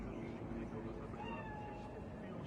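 A cat in the video game Cyberpunk 2077 gives a soft, faint meow set against low background game ambience, with a voice talking over it.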